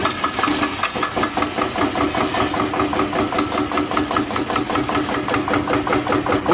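Scrap chopper running at its fast speed and crushing scrap, a loud, steady rhythmic mechanical chopping with motor drone and hiss, close by and with no talk.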